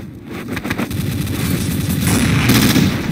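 Rapid gunfire rattles in Counter-Strike: Source, a steady stream of sharp shots running continuously for about three seconds, loud and close, with no voices.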